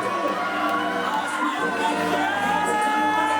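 An audience at a poetry slam gig cheers and shouts, a loud mixed crowd noise with whoops and voices layered over one another.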